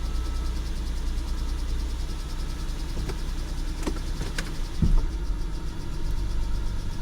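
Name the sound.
2007 VW Passat engine revving while idling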